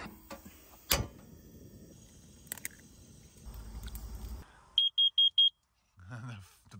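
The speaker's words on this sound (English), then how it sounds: "The bacon's making the fire alarm go off, smoke detector." A smoke alarm, set off by cooking bacon, lets out four rapid, shrill, evenly spaced beeps after some clattering and rustling, and a voice starts speaking right after the beeps stop.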